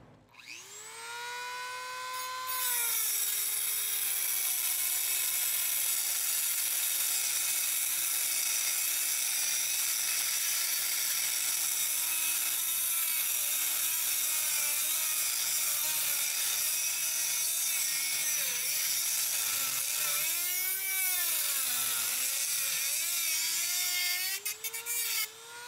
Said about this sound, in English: I chose to use the Dremel tool.